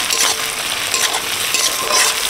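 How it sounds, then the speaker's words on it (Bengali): Chopped onions frying in hot oil for a fish curry with ridge gourd, a loud, close, continuous sizzle with stirring scrapes and no talk. "পেঁয়াজ ভাজা হয়ে গেছে"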